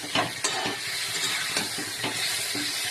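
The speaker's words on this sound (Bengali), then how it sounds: "এই যে লঙ্কা আর আদা বাটাটা দিয়ে দিলাম, এতে তেলে পুরো একটু কষবো" Chili and ginger paste fries in hot oil for a Bengali rui fish and potato curry with a loud, close, continuous sizzle and hiss, broken by scraping stirs at intervals.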